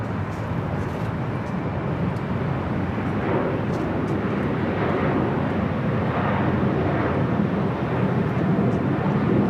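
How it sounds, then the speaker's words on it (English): A WestJet Boeing 737-800 airliner roars at LAX as a loud, steady broadband engine rumble that holds for the whole stretch without talk. "we got a WestJet 737-800 up next."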